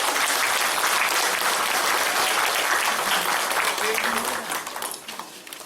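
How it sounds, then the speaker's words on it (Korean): An audience at a Korean community mental health and suicide-prevention education event applauds steadily in a dense, loud wash of clapping that fades slightly near the end. "박수 한번 부탁드립니다."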